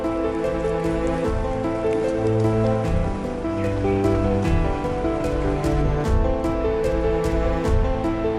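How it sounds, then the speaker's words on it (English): Light drizzle falls at a campsite in the Blue Mountains, scattered dripping ticks over a steady, continuous tonal hum. "Weather isn't the best, it is drizzling, but still pretty."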